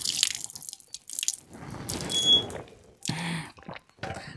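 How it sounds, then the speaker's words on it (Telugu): Milky-looking well water from the Molangur Doodh well near Hyderabad is poured in short, close splashing bursts separated by brief pauses, with trickling and dripping between pours. "కొంచెం నీళ్ళు పోస్తే తాగుతాను"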